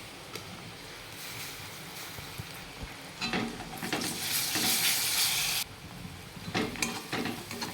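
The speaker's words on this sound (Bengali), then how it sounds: "পেঁয়াজটা ভালো করে ভেজে নিব, তারপরে রসুন দেব। রসুনটা দিয়ে দিচ্ছি।" Onion frying in oil in a pan, with garlic being added, sizzles softly at first, then flares into loud, crackling bursts of frying that ease off and surge again.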